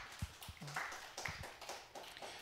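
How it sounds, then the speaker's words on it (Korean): A church youth group meeting gives a brief, sparse round of clapping, a few scattered claps rather than full applause, heard fairly faint in a room. "자, 우리 서로를 위해서 박수."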